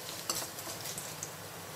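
A spoon stirring hot oil tempering into tomato dal in a pot, with soft sizzling and a few light scrapes and clinks against the metal, close and alone.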